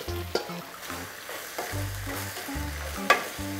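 Webfoot octopus tossed into bubbling gochujang sauce with vegetables sizzles and crackles in a pan, with repeated clinks and scrapes of a utensil stirring over a steady frying hiss.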